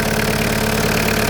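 Citroen C15 van with a DW8 diesel engine ticking over at idle, a steady, dense, close rumble with no pauses and no talk.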